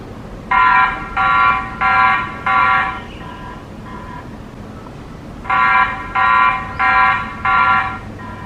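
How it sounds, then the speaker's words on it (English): A TP-Link Tapo C420S2 wire-free security camera's motion alarm: a loud electronic siren in two bursts of four sharp, evenly spaced beeps, separated by a few seconds of fainter tones and background hiss. "Now for alarm, you can turn it on, and if it detects any motion, it will sound off."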